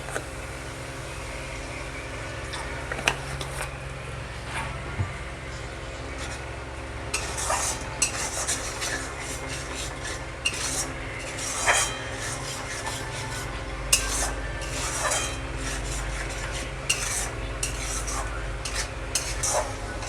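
Tomato masala with turmeric and a splash of water is stirred in a pan for chana masala, making steady scraping and rubbing strokes over a soft sizzle, with sharper clinks of the spoon against the pan at intervals.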